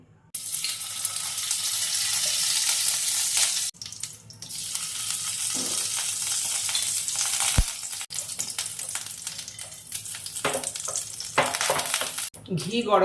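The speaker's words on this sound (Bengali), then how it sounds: "গ্যাসে কড়াই বসিয়েছি এর মধ্যে দিয়ে দিচ্ছি দু চা চামচ ঘি ঘি গরম" Ghee sizzles steadily in a hot pan with a bright, hissing crackle, broken by brief pauses and a few clinks of a utensil.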